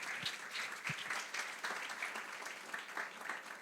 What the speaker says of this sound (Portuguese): digam amém e aplaudam bem forte ao Senhor